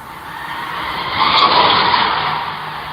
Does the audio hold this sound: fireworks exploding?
no